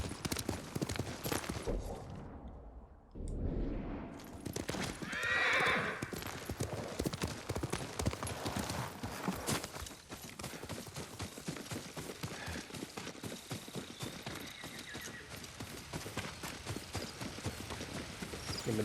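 Horse hooves gallop at a steady clip-clop rhythm through most of the stretch in the samurai game Ghost of Tsushima, loud and close, with an occasional whinny and ambient game sound around them.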